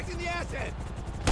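Gunfire in GTA 5 during a firefight, a short burst of shots cutting in at the end after a brief vocal sound.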